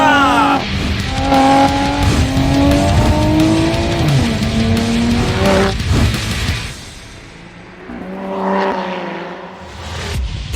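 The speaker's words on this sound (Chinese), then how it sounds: "让排气的阀门完全打开，油门到底" A Lotus Emira sports car with a Toyota engine at full throttle on a race track, exhaust valves open, roaring up through gears in rising sweeps, loud and close, then easing off and pulling again.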